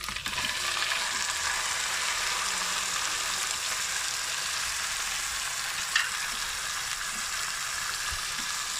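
Hand-chopped frozen minced meat (keema) frying with ginger in a pan over low flame, a steady close hiss of sizzling with a brief clatter near the end, no talking.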